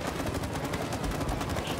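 Rapid gunfire in the co-op video game It Takes Two: a dense, continuous rattle of quick shots at close range, loud and steady throughout with no pause.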